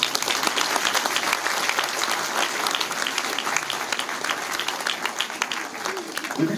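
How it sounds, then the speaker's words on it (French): Audience at a mayor's New Year address in Villabé applauding steadily, a dense, sustained clapping from a sizable indoor crowd that stays even throughout without letting up. "Je crois qu'on peut à nouveau les applaudir."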